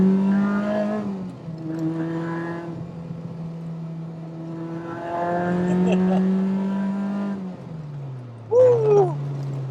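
A supercharged K20-swapped Honda Civic Type R EK9 accelerates hard, its engine note rising through the revs, dipping at gear changes and climbing again, with steady in-cabin drone and someone talking over it.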